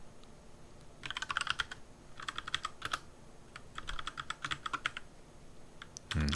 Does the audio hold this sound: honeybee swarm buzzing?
no